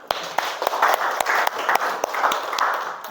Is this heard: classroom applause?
yes